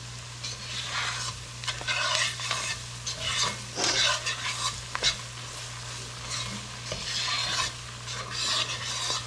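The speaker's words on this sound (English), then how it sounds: "I'm going to continue to stir it because it's still cooking, and I don't want that roux to stick and burn" Onions and roux stirred in a really hot pot with the heat off: a spoon scrapes in repeated bursts over a continuous low sizzle, close and alone without talk.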